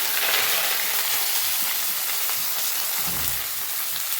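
Onions and tomatoes fry in hot oil with curry leaves, giving a loud, continuous, close sizzle that holds steady throughout, with a brief low thump of stirring near the end and no voices.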